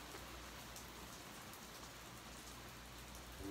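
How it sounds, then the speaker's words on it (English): Steady heavy rain pouring down, a constant hiss of drops on surfaces, with no voices. "I don't know if you can hear it or not, but man, it's pouring down."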